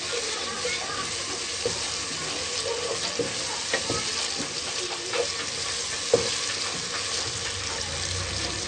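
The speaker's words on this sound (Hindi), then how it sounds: "अब हम इसमें जीरा डालेंगे। जीरे को हम हल्का सा भूनेंगे।" Cumin seeds roasting in oil for an aloo gobhi gajar matar sabzi, a steady hiss and sizzle with occasional sharp pops and crackles, continuous and moderately loud.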